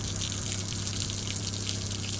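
Hot and cold water run together from the outside shower of a Casita travel trailer, a steady loud hiss and gush with a constant pump hum underneath, continuous for the whole stretch and with no voices.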